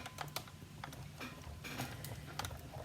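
A manual die-cutting machine pressing paper between cutting pads, heard as faint, quick mechanical clicks and ratcheting ticks scattered over a low steady hum, with no talking.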